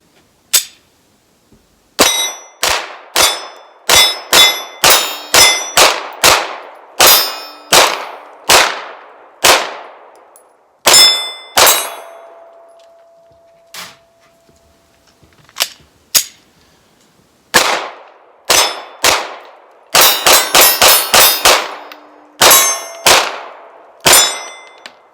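Rapid one-handed pistol fire from a SAR9 rings off steel targets: about thirty sharp, loud shots with bright metallic clangs, in quick bursts and short pauses, one target ringing on for a few seconds.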